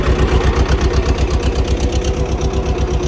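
A Swaraj 724 tractor engine runs close and loud outdoors near a tree root, with a steady rapid diesel chug and an even pulsing rhythm.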